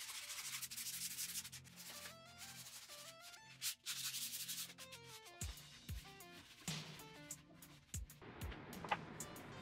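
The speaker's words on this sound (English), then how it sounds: "I'll do some sanding first and then put a coat of urethane" Someone sands a bunk bed built from 2x6 lumber. The quiet scratchy rubbing comes in uneven strokes, with no talking.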